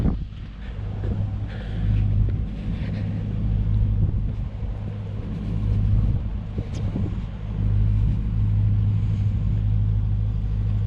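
A Dodge Hellcat idles and rumbles slowly toward the back of a shop, a low steady engine drone close by with faint wind buffeting and no talking.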